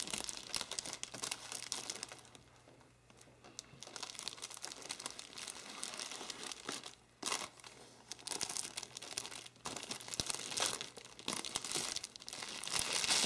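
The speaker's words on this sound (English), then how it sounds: "I'm going to tie the cellophane" Cellophane crinkles and rustles for several seconds as it is gathered and tied over a gift basket. The crackling is close and continuous, with brief pauses and some sharper tearing-like crunches.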